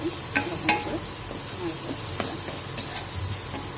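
Food stirred in a hot frying pan, a moderate oily sizzle under intermittent scraping and clinking of a spatula against the pan, close by.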